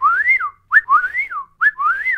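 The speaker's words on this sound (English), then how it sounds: "It shows the migration of the eastern whippoorwill," An eastern whippoorwill sings its call three times in clear succession, each a loud, rising and falling whistled phrase with a short lead-in note, close by and with no other sound.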